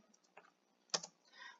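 A few separate keystrokes on a computer keyboard while a pathping command is typed, faint and spaced out, with no voices.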